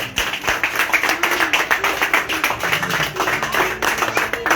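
A church congregation applauds together in a dense, steady burst of clapping that runs the whole time at full level, with no talking over it.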